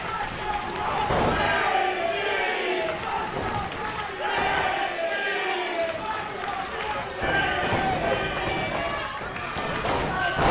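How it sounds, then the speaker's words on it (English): A large wrestling crowd in Granite City roars and cheers continuously through a match between Brandon Barretta and Rhyno, loud and close, with surges of noise, thuds and an announcer talking over it. "And you just listen to this crowd."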